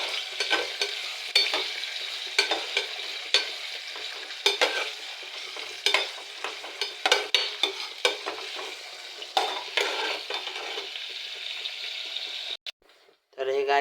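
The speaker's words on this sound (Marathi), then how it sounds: "असं हलवून घ्यायचं" Khichdi of rice and potato stirred in a pan, repeated scraping spoon strokes over a soft, steady sizzle, fairly faint and close, cutting out briefly near the end.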